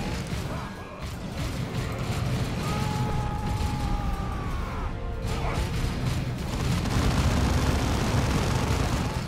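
Grenade blast in Dawn of War II amid a continuous, loud din of battle, with crashing and rumbling effects piled together and no clear single burst standing apart.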